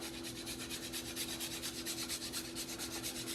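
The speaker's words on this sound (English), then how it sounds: "good scraping of nutmeg" Whole nutmeg rasped against a grater over mashed sweet potato, a soft, steady rhythmic scraping of repeated quick strokes, close and quiet, with a faint steady hum beneath and no talking.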